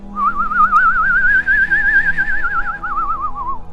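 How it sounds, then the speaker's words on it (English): A person whistles a single sustained, wavering tone while breathing in, the pitch rising slowly and then falling with a fast vibrato, loud and close, with no one talking. "And it's breathing in, whistle."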